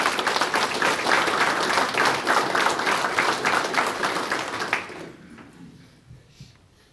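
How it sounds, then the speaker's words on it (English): Audience at an awards breakfast breaks into a sustained round of applause, dense clapping filling the room for about five seconds before tapering off into scattered claps and quiet. "still another round of applause for Claire"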